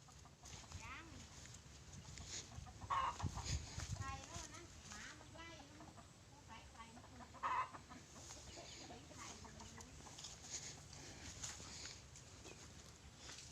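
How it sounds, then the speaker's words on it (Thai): Chickens cluck in a farm coop on a mixed smallholding, with intermittent clucks and fowl calls under someone talking, plus some rustling and footsteps nearby. "เดี๋ยวพาไปดูเล้าไก่กันแป๊บหนึ่ง"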